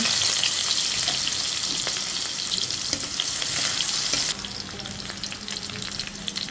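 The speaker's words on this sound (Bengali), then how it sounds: "পেঁয়াজ ভেজে নিচ্ছি" Chopped onions with whole cumin fry in hot oil with a loud, steady sizzle and occasional stirring clinks; the hiss softens partway through.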